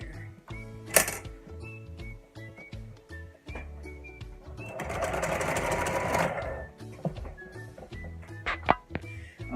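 A sewing machine stitches a fabric placemat in short bursts of rapid, close clicking, with one longer continuous run in the middle and quieter handling sounds between.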